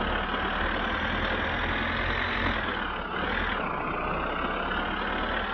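Tractor engine in My Summer Car runs steadily at a low, even idle-like drone, loud and continuous throughout with no talk over it.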